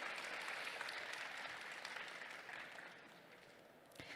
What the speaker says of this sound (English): Let's give a round of applause to Sarai.